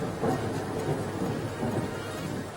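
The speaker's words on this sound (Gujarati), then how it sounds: "સુરેન્દ્રનગરના સાયલામાં મોડી રાતથી ધીમી ધારે જે વરસાદ વરસી રહ્યો હતો" Heavy rain falls in Sayla, Surendranagar, a steady, dense wash of rainfall with a low rumbling undertone, continuous and fairly close throughout.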